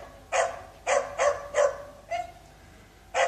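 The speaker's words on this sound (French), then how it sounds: "Désolé pour le chien si vous l'entendez." A dog barks five times in quick succession, pauses, then barks once more, close and fairly loud against a quiet room.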